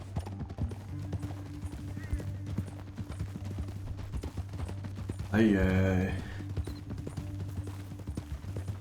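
Horse hooves clip-clopping on a canyon trail in Red Dead Redemption II, a steady rhythmic patter under game music and a brief vocal exclamation, with a horse whinny midway.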